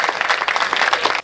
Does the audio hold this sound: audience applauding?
yes